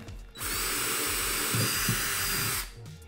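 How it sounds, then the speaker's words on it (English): A power drill whirs at high speed for about two seconds, a steady loud buzz that starts and stops abruptly, with faint knocking beneath. "what we're gonna do is take this and we're gonna drill a hole"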